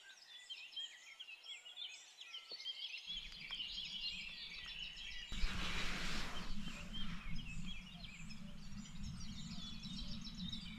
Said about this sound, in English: All the birds, they're really loud.